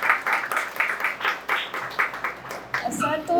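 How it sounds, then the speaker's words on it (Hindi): An audience gives a guest speaker a welcoming round of applause: rhythmic, fairly sparse clapping that fades out as a voice begins speaking near the end. "हम जोरदार तालियों से स्वागत करेंगे उनका"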